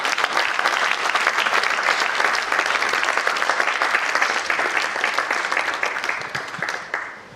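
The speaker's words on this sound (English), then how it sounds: "another round of applause" A crowd applauds steadily with dense, even clapping that holds for several seconds, then fades out at the end.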